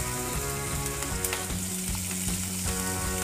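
Cumin, bay leaves and green chili frying in hot oil, a steady, dense sizzle close up with light crackles throughout.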